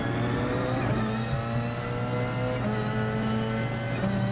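Race car engine in GT Sport droning at steady revs with a whirring, buzzy tone as the driver short shifts, loud and continuous without talk.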